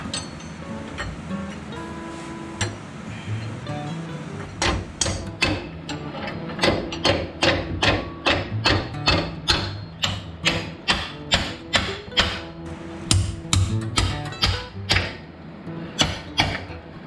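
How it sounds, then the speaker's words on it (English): Wrench tightening the passenger side C-shackle on a vehicle suspension during a rear axle swap, heard as a steady series of sharp metallic ratcheting clicks and knocks in a regular rhythm over a low background hum, close and fairly loud. "Dad's getting the passenger side C-shackle tightened down."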